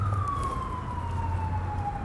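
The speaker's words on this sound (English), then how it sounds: "I wanted to let the siren go back because it just drowns out whatever you're going to say" An emergency siren passes outside a city building, a single faint wailing tone sliding slowly downward in pitch over a low steady background hum, with no talking.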